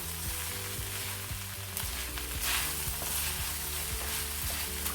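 Minced meat frying in a pan while black pepper is stirred in: a constant sizzle with rhythmic spatula scrapes and taps, fairly quiet and with no talking.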